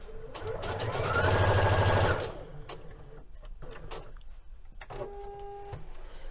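Sewing machine stitching a waist dart on a Liberty London Florence palazzo suit, running in one loud continuous burst for about a second before stopping, followed by quieter handling sounds and a short mechanical whir.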